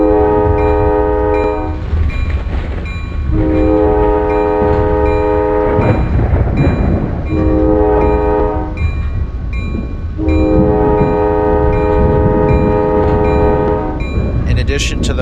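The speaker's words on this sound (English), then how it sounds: "All trains have to sound their horn for C interlocking." A MARC Penn Line train sounds its horn at C interlocking: loud, close, sustained blasts in several long repeated sections, over a steady rumble of rail and wheel noise.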